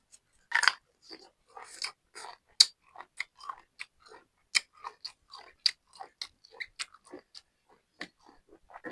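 Crunchy food chewed close up, a rapid irregular run of sharp crisp bites and chews throughout, with no talk.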